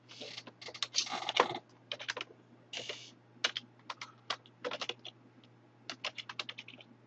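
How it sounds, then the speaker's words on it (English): Close, quiet typing on a computer keyboard, with irregular clusters of key clicks and short pauses between bursts over a faint steady hum. "I'm typing in dark, guys"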